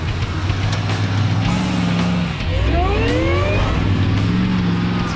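An LS1-engined farm truck revs nearby, the low engine drone swelling through a couple of rising throttle blips and falling back, loud and steady with no voices over it.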